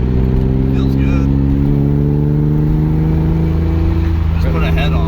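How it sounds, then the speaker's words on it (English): A BMW E30 with a swapped S52 engine cruising along, its loud, steady engine drone heard from inside the car, with the pitch easing slightly midway and rising again near the end. "Cruising in a swapped E30."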